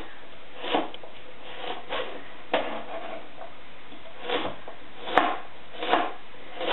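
Knife chops on a cutting board through carrots and other vegetables, about eight distinct thuds spaced irregularly over several seconds, close and fairly quiet with no talking.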